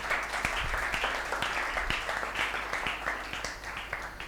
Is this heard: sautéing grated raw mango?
no